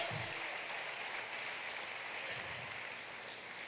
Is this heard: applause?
yes